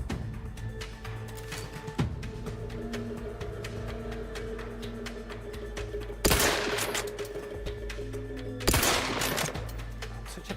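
Sniper rifle gunfire in The Outer Worlds 2, two sharp loud shots a couple of seconds apart standing out over a busy background of lighter clicks and ambient game sound.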